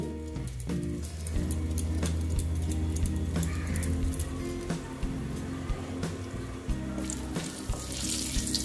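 Dry red chili, whole garam masala and hing hit hot tempering oil with a continuous crackling sizzle and scattered sharp pops, close up and without any talking.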